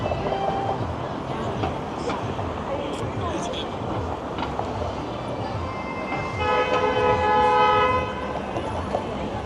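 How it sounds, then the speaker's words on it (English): A Toronto streetcar near Bay Street sounds a sustained horn at a cyclist, the honk rising clearly over the busy downtown street noise toward the end. "Streetcar honked at that cyclist for not stopping when the streetcar is boarding or deboarding."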